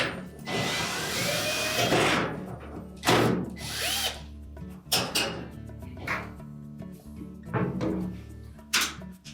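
A power drill spins out a 1/4 inch hex head screw on a Whirlpool dryer front panel near the door switch. It runs in a long steady burst, followed by several shorter whirring bursts and clicks, with no talking.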